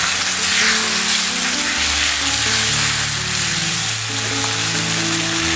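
Tandoori chicken do pyaza frying over a high flame, a steady, loud, dense sizzle with a low hum underneath that continues unbroken throughout, with no voices.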